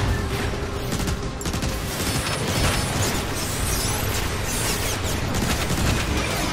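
Dense sustained gunfire in Transformers War for Cybertron, a loud continuous barrage of rapid shots and booms with mechanical clatter, filling the whole stretch without pause.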